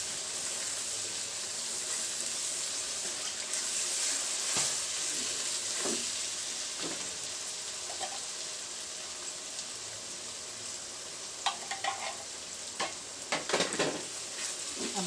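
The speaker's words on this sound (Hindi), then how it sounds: "अब हम इसे अच्छे से भून लेंगे" Spiced masala with turmeric, salt and ground green chilli frying and being stirred in a pan for stuffed tinda, a steady close sizzle with scraping spoon strokes and a few sharper clatters near the end.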